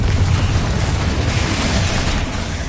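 The Confringo spell detonates in Hogwarts Legacy, a loud, roaring blast that stays dense and rumbling throughout, heavy in the low end and dying away only slightly near the end.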